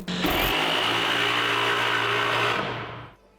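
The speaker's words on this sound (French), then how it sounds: "un petit coup de scie sauteuse" A jigsaw cuts wood in one continuous, loud, high-pitched buzzing burst lasting about three seconds, then stops abruptly and winds down.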